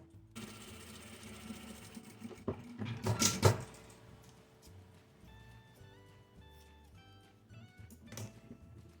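A domestic sewing machine runs faintly as it stitches a folded fabric strip into a bar for a jewellery organizer, with a louder clattering burst partway through and some handling noise afterward, no speech.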